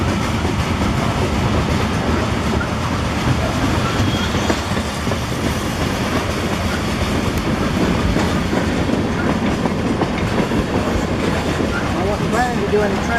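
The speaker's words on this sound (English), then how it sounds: "I wasn't planning to do any train watching" A freight train rolls past on the railroad close by, a loud continuous rumble with rhythmic clickety-clack of wheels over rail joints throughout, with voices faintly underneath.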